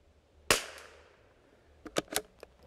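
A Springfield 2020 rimfire rifle with a synthetic stock fires one sharp, fairly close crack that rings out briefly. After a pause comes a short cluster of quicker, quieter snaps and clicks.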